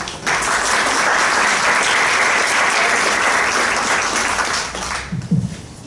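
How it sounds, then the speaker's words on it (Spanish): Sustained applause from a seminar audience welcoming a speaker, steady and loud for several seconds before tapering off at the end. "Demos un aplauso de bienvenida"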